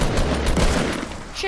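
Rapid gunfire in a multiplayer shooter video game, a dense, continuous burst of loud shots filling the whole moment, with a voice briefly mixed in.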